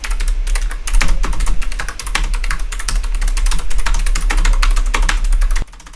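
Rapid typing on a new Logitech G915 keyboard, a dense stream of close, crisp key clicks over a low background hum that cuts off abruptly near the end, with no speech.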